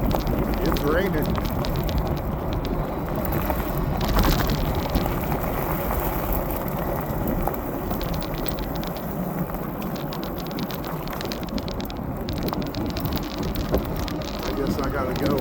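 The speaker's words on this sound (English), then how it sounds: "It's raining." Cold rain falling during a ride on a Philodod Forester e-bike, a continuous hiss and patter mixed with road and wind rumble, steady for the whole stretch, with a person talking intermittently over it.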